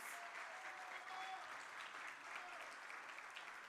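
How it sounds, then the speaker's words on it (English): Faint, steady applause from an audience at an Ashesi anniversary gathering, welcoming a traditional chief, a soft continuous wash of clapping heard from a distance with no voices over it. "Can you help me welcome him with a round of applause, please?"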